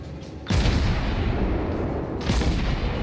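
Naval artillery fires in World of Warships, two heavy booming salvos about two seconds apart, loud and close, each followed by a rumbling tail, with no talk.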